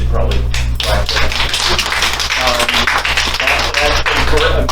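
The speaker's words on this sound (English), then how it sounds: "we should probably clap for that" Audience at a history lecture about the Cedar Keys claps in a short burst of scattered hand claps over a low electrical hum in an indoor room.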